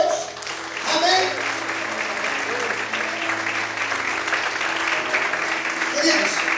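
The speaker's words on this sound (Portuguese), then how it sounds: "Você pode aplaudir esse Deus, amém?" A church congregation applauds during an evening sermon, sustained dense clapping filling the room for several seconds at steady loudness, with a low musical drone or keyboard tone humming underneath.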